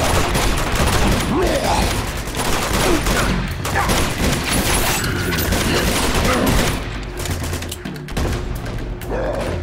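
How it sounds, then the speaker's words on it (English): Dense, continuous gunfire from the video game Uncharted 2, with rapid overlapping volleys and heavy booming shots filling the whole stretch at loud, close range. "I'm shooting at nothing."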